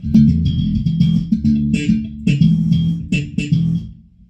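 A heavily distorted bass guitar through an overdrive pedal with drive maxed plays a choppy riff of short, punchy notes with gritty, fuzzy overtones, loud and close throughout.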